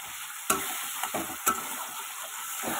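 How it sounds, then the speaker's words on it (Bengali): Ground spices sautéed in a pan, a steady soft sizzle broken by a few sharp scrapes and taps of the stirring spoon, close and alone with no talk. "এটাকে ভালো মতো কষিয়ে নেবো, তারপরে জল দেবো।"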